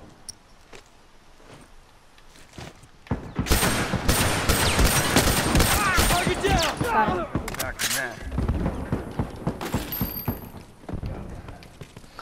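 Rapid bursts of video game gunfire crackle in a dense, chaotic volley as players shoot at an enemy, loud and close for several seconds after a quieter start, with faint voices in the background.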